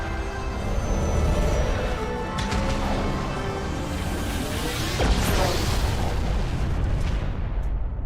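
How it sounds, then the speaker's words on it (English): A loud, sustained rumbling explosion with crashing debris in the final mission of the video game Mass Effect, heavy low booms rolling continuously and swelling slightly midway, with no voices over it. "Oh, that explosion is about to have the debris."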